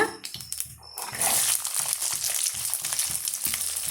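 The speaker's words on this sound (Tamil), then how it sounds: "ஒரு கைப்பிடி அளவுக்கு வெள்ளை பூண்டும் ஒரு கைப்பிடி அளவுக்கு சின்ன வெங்காயம் எடுத்து வச்சுருக்கேன் இதை வந்து அப்படியே சேர்த்து விட்டுருலாங்க" Handfuls of garlic and small shallots tipped into hot oil, a few knocks and crinkles giving way to a loud, dense sizzle that carries on steadily close by, with no voices.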